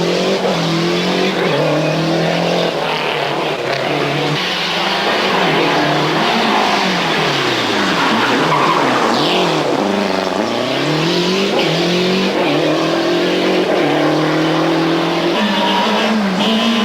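Skoda kit rally car driven flat out on a 1996 European Rally Championship stage, a loud, sustained engine howl rising and falling through gear changes and revs, with tyre noise, heard close and without talk.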